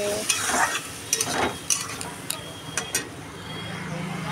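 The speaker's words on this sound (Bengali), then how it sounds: "মশলাটা দিয়ে এখন কষিয়ে নেবো একটু মশলাটা দিয়ে" Spices sautéed in a pan for a thin fish curry with vegetables: bursts of sizzling and scraping stirs come in uneven strokes over a steady low frying hiss, close by.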